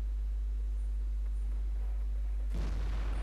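A tank cannon shot in the video game World of Tanks, fired at a Tog II tank: a sudden loud broadband blast bursting in near the end over a steady low hum.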